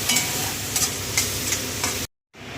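Prawns seasoned with salt and turmeric fry in a kadai, sizzling steadily while a spatula scrapes and stirs in regular strokes, then a brief silent cut before the sizzle returns.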